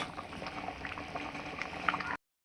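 A pot of lentil dumpling curry simmers quietly, thick liquid bubbling and popping in small irregular bursts up close before cutting off abruptly.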